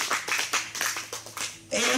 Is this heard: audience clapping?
yes